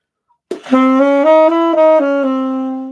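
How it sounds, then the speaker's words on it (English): A quick run of short ascending notes from the start of a diminished scale on a sustained, plucked-string instrument rings out clearly and alone, the last note decaying slowly. "So the beginning of a diminished scale is like, if we're playing in this key, it sounds like this."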